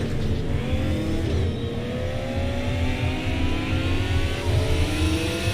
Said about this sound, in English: you can hear the engine though a bit there